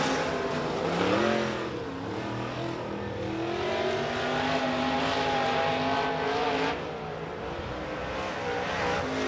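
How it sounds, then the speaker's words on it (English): A late model race car engine roars steadily during qualifying on a speedway, revving and shifting pitch as it runs laps, loud and continuous with crowd-like background noise. "Randy Dillard on the Speedway in the 51 car."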